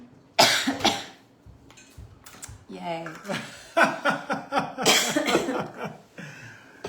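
Several short coughs and throat-clearing bursts from a person recovering their voice, mixed with chuckling and brief speech, close and moderately loud indoors.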